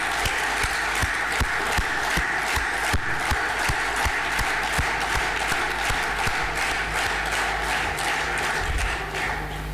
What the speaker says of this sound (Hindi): नेक्सफ परिवार के उन सभी सदस्यों के लिए जोरदार तालियां